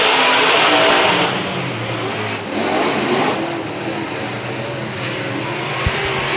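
Stock cars race three wide down the backstretch of a speedway, engines revving loudly and roaring past, swelling and easing as the pack moves, with no voices.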